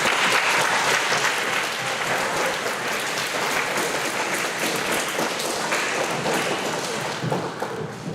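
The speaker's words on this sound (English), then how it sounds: "Go ahead and give them a round of applause." Audience applause for award recipients at an 8th grade award ceremony, a loud, continuous patter of many hands clapping in a hall, steady throughout and tapering slightly at the end.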